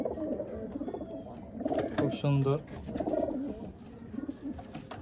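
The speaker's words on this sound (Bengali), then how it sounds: "এই এক জোড়া কবুতর" A pair of pigeons coo in low, repeated bursts, a clear rolling coo standing out near the middle, while someone talks over them close by.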